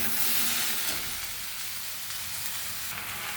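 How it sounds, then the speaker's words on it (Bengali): Tomatoes fry and get stirred in a pan, a dense, even sizzling hiss with faint spoon scrapes, near and steady, no speech. "টমেটোটা দিয়ে টমেটোটা নেড়ে নিচ্ছি"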